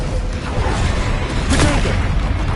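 Fire and blasting spells from Hogwarts Legacy cast during a fight with a troll, a dense, continuous roar of booming impacts and crackling bursts with a louder surge midway through.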